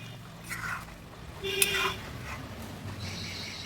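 Fish and a prepared spice paste drop into a simmering vegetable curry of snake gourd, giving a brief soft plop and a quick sizzle, with light utensil scraping around it, quiet and close.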